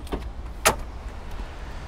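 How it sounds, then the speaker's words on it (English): Gas lid of a 1989 Ford Mustang convertible popping open, a single sharp click near the middle after a faint earlier knock, heard up close against quiet outdoor background hiss. "Let me open up that gas lid."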